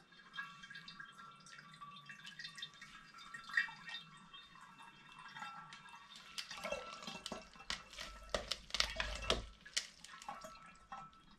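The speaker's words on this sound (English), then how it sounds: "until I've got all of the grain pushed through the sieve and squeezed through the sieve so all the liquid comes out" Liquid dripping and trickling as brewing grain for an all-grain strong brown autumn ale is squeezed through a sieve, faint at first, then louder splashing and pouring in the second half.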